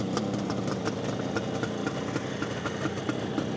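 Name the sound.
Kawasaki H2 750 Mach IV motorcycle engine idling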